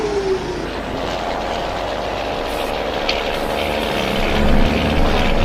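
A steady, loud rumble of a train rolling past in Farming Simulator 19, with continuous rail noise and engine drone throughout.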